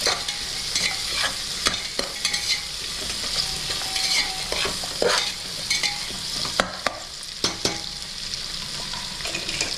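Onions and green chilies frying in oil in a pan for ghee rice: a continuous crackling sizzle with repeated scraping stirs and sharp spatula taps, close and loud, no talk.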